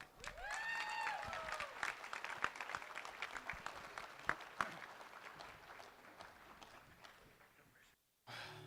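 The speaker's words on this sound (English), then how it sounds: "And now let's give a huge round of applause to Mr. and Mrs. Foust." Wedding reception guests applauding the newlyweds, a soft, dense wash of clapping heard at a distance with scattered louder claps, tapering off before a short silence and the start of a quieter room sound.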